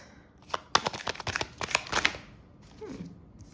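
Oracle and tarot cards are drawn from a deck, giving a quick run of crisp, papery flicks and taps close by, then a short, soft slide as the cards settle.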